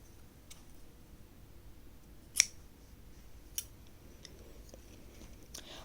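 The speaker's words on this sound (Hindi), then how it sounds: "धागा काट दूंगी" Scissors snipping crochet thread: a few sharp, quiet clicks spaced apart in a still room, one crisper cut standing out among lighter snips.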